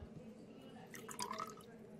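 Excess borax slime activator is tipped out of a container, giving a brief, faint trickle and splash of liquid midway through against a quiet room background.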